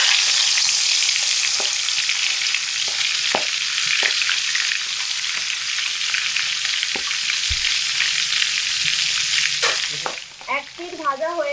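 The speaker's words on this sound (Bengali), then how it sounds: "গরম তেলের মধ্যে মাছের মাথাগুলো দিয়ে লাল লাল করে ভেজে নিচ্ছি।" Fish heads sizzling in hot oil for a Bengali murighonto, a dense continuous hiss and crackle close up, with occasional taps of a utensil against the pan; the frying fades near the end as a few light clinks follow.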